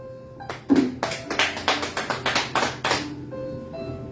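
Applause during a church service: a short run of about a dozen quick, rhythmic claps over roughly two and a half seconds, fairly close, with a faint steady hum before and after and no talking.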